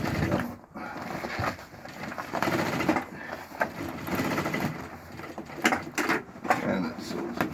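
A sewing machine stitches through wire mesh with a close, steady mechanical whirr that pulses in short runs with brief pauses between them.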